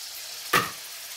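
Ginger and tomato sautéing in a hot pan: a quiet background sizzle with one sudden louder hiss as food hits the oil, then settling back to a faint steady frying.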